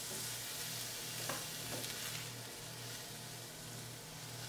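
Venison frying in olive oil in a hot skillet gives a steady, close sizzle with a few stirring scrapes, and no one speaks over it.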